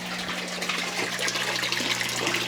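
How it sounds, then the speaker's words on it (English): Water rushes and gurgles steadily as a small aquaponics grow tank in a suburban garage drains through a natural siphon, a continuous close gushing with no voices. "the water got up to a certain level and it started overflowing into a natural siphon type system"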